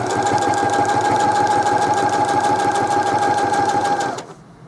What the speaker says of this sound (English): I didn't know how this plastic and my sewing machine were going to get along